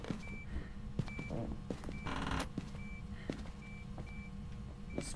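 Short, faint beeps from ghost-hunting equipment in a multiplayer horror video game repeat at irregular intervals over a steady, noisy background hum.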